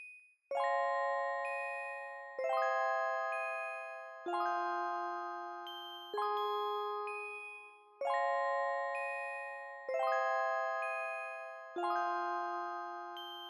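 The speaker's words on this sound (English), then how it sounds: "It's also just a really nice bell sound." Synthesized bell tones in a K-pop beat ring out in a repeating pattern, seven struck chords about two seconds apart, each decaying slowly, bright and clear with no voices.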